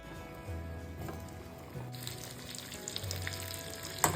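Oil and butter heating in a frying pan in a home kitchen, a soft steady sizzle with faint hiss under low hum, and a small clink near the end.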